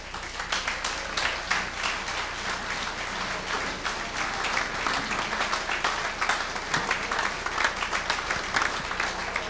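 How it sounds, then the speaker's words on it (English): An audience at an expo event breaks into sustained applause, dense clapping that carries on steadily throughout at full volume. "A louder round of applause, please."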